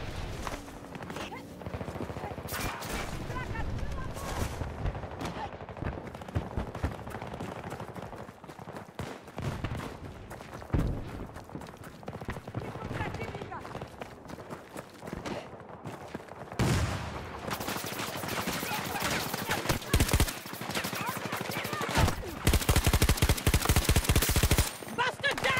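Tap-fired gunshots in Battlefield 2042, short clusters of quick single shots scattered through a busy battle, growing into a dense rapid stretch near the end, with a voice talking at times.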